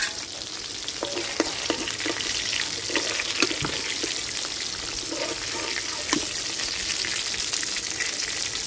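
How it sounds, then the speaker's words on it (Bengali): Katla fish pieces fry in hot oil in a home kitchen, giving a steady, close, loud sizzle with occasional sharp crackles and spatula scrapes throughout. "মাছ আমি হালকা লাল লাল করে ভাজে নিতে তুলে নিই"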